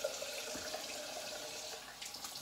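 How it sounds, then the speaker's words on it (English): Tap water runs steadily onto a Dr. Harris Arlington shaving stick, a soft continuous splash and trickle heard close and alone for a couple of seconds. "Put a bit of water on."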